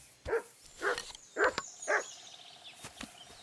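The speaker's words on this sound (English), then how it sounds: "Okay, that is Mud barking." A dog named Mud barks in the medieval video game Kingdom Come Deliverance II: four evenly spaced sharp barks at moderate distance, then a couple of fainter yips, alone with no talk.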